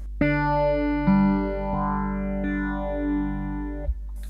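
Three separate guitar notes struck one after another on open strings, each ringing out with a distorted, effected tone and a long sustain.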